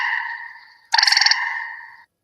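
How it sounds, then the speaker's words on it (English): A recorded green tree frog call plays back: a steady nasal tone, then a burst of rapid pulsing notes before the tone fades, heard alone and clearly. "That's the green tree frog."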